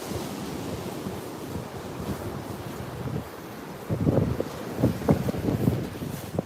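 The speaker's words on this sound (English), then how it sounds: "The waves coming up the beach." Sea waves wash up a beach at Walcott on the north Norfolk coast, a steady rumbling surf that swells louder in the last few seconds, heavily mixed with wind buffeting the microphone and no speech.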